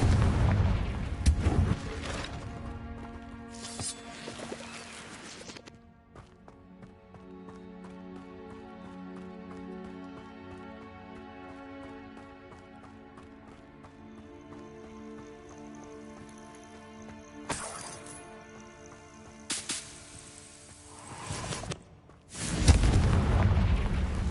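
Confringo fire-spell explosions in Hogwarts Legacy, booming blasts at the start and again near the end, separated by a quieter stretch of game ambience and music.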